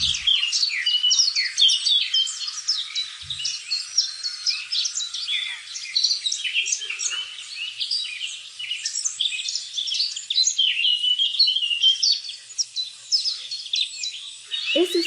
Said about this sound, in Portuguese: É o som de pássaros, né?